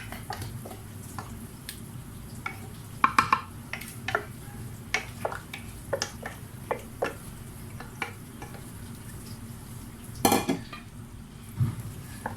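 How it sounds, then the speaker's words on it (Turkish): Baked pasta is stirred with béchamel sauce in a pan, the utensil scraping and clinking in irregular bursts against a low kitchen background, with no talking. "Beşamel sosumu güzelce yaydım. Hepsinin her yerine eşit bir şekilde karıştırdım."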